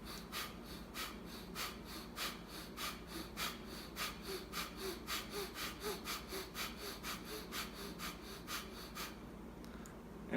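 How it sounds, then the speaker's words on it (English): Rapid breathing exercise done at three to five breaths a second: quick, even, forceful puffs through the nose, close and steady, running for about nine seconds before stopping. "I'll show you what the breathing looks like"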